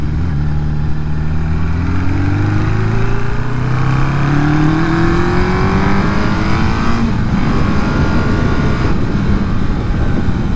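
A motorcycle engine runs loud and steady, revving up so its pitch climbs in smooth sweeps over a constant rough drone, with no talking.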